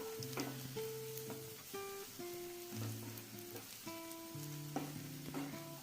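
Chicken korma masala frying in a pan, a steady broad sizzle running throughout while tonal music plays over it.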